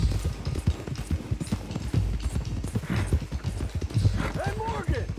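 Horse hooves in Red Dead Redemption 2 clop in a quick, steady riding rhythm, close and clear, with voices talking over the gait.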